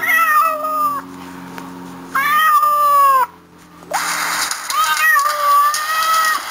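A cat meows loudly several times in drawn-out, wavering cries, close by, with steady background hum.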